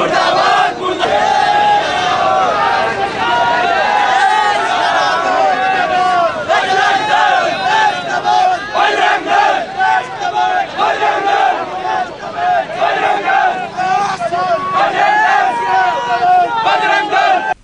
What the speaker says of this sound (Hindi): पाकिस्तान के खिलाफ जमकर नारेबाजी की